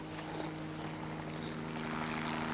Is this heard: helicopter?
yes